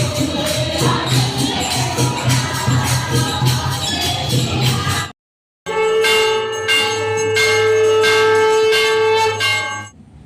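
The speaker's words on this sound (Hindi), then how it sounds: "12 बज चुके हैं और मंदिर में घंटियां बजना शुरू हो गई हैं।" Temple bells ring at midnight for Janmashtami, a dense, continuous clanging of many bells with crowd murmur beneath, loud and close; the sound cuts out briefly, then resumes with a sustained ringing tone.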